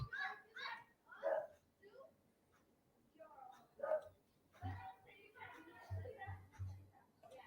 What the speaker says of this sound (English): my dog is barking his ass off right now